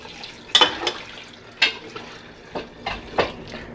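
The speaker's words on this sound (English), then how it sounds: "So now I'm just going to add about 500 milliliter of water," About half a litre of water poured into a cooking pot of mutton namkeen gosht, heard as several separate splashy gushes and pours spaced over a few seconds, close and fairly clear.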